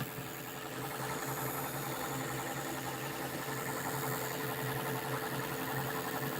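A pulse motor with a spherical rotor carrying eight magnets spins steadily at several hundred RPM, giving a continuous whirring hum with a faint buzzing drone and no talking throughout.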